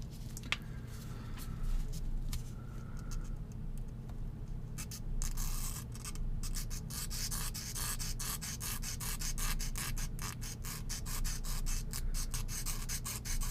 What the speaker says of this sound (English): this is just a file I picked up at Bass Pro Shop a while ago for sharpening knives.